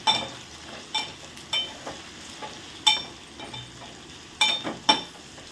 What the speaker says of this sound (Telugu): ఆ తర్వాత కలుపుదాం బాగా